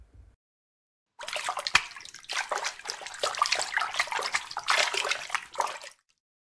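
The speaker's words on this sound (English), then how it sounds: "let the sound of water save me from following Pilate." Running water pours steadily for several seconds, close and fairly loud, with fluctuating splashing like a tap filling a basin, then stops abruptly; no talking.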